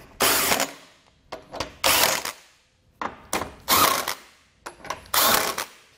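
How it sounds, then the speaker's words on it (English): A ratchet with a 21mm socket tightens bolts on a Draw-Tite Max-Frame trailer hitch on a 2018 Jaguar F-Pace, repeated loud bursts of rapid clicking in rhythmic strokes, separated by short pauses. "I'm going to grab that 21mm socket and just snug down our hardware."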